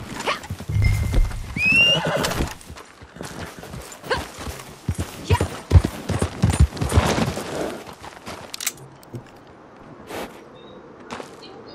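In the Red Dead Redemption 2 video game, a horse gives a shrill neigh early on. Irregular clopping hooves and scuffling follow, then the sound fades to a quieter stretch at the end.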